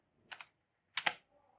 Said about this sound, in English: I'll type, simply type